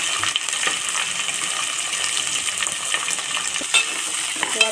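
Cut onions and curry leaves fry in a pan alongside chana dal for an aloo kurma, giving a steady close sizzle with a few stirring scrapes and no talking.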